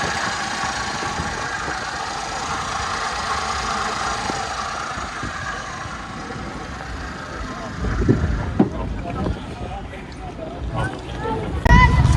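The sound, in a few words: Toyota Vitz car engine running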